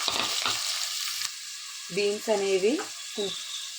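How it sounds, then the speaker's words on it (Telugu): Onions and green chillies sizzling in hot oil in a pot for a Telugu beans curry, a steady broadband fry hiss throughout, with a few soft clinks and a short musical tone sounding over it. "ఆయిల్ బాగా వేడెక్కిన తర్వాత ఆనియన్స్ అలాగే పచ్చిమిర్చి కూడా వేసుకోవాలి"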